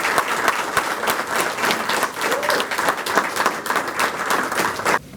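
An audience claps for an honored guest at a talk, with brisk, sustained applause from a full room. The individual claps are crisp and close, and the clapping continues evenly before cutting off abruptly.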